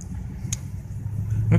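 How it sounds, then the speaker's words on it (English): A truck pulling away from a parking area, a low engine rumble that gradually grows louder, with a couple of brief sharp clanks or squeaks and a voice faintly present in the background. "Okay, truck is leaving now."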